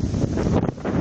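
Strong storm wind strong enough to tear off house roofs buffets and roars in gusts, rumbling heavily, with no voices.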